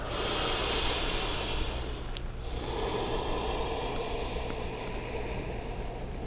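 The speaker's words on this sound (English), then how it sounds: "just breathing deep breaths" Slow, deep breathing during a yoga pose, steady airy hiss of inhales and exhales up close with a sharper snort-like breath near the middle, no talking.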